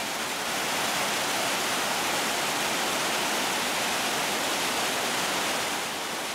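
Montmorency Falls roars in a steady, dense rush of broadband noise, unbroken throughout, the river plunging in stages some 74 metres.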